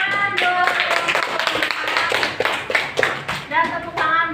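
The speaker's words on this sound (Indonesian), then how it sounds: "tepuk tangan buat kalian semuanya" Applause from a classroom group, many hands clapping in a dense, uneven patter throughout, with a voice speaking over the clapping at moments.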